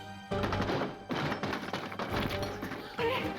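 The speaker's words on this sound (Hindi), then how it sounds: "दरवाजा तोड़ दे बेटा।" A door is being broken down in a home drama scene, with a series of heavy crashing thumps and bangs in quick succession and brief gaps between blows.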